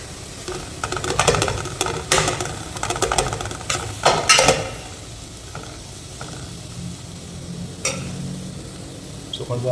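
Chopped big onions and small shallots dropped into hot oil in a pan for a potato kulambu, frying with a steady sizzle under clattering stirs and scraping of a spoon against the pan.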